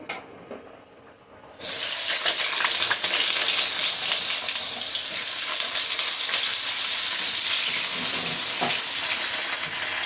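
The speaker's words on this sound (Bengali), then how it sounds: "এখানে আমি কড়াই গরম বসিয়ে দিয়েছি, পটলটা ভেজে নেব।" Pointed gourd (potol) drops into a hot kadai and bursts into a loud, steady sizzle of frying oil that holds for several seconds after a quiet start.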